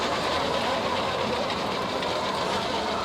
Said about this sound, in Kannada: ಈಗ ನಾವು ಇಲ್ಲೇ ಕೊಟ್ಟರೆ ಈಗ ನಿತ್ತಲ್ಲೇ ವೆಹಿಕಲ್ ತಿರ್ಗಾಕೆ